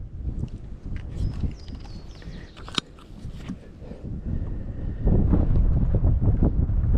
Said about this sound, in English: It's been windy.